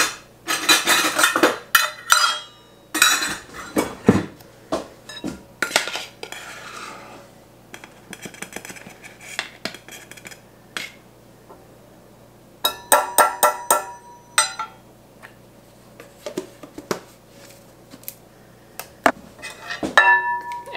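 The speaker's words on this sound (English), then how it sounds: "I'm gonna get this all mixed together well" Spoon knocking and scraping against a bowl while batter with cocoa powder is mixed for Christmas baking, in bursts of clinking strokes separated by quieter pauses, close and fairly loud.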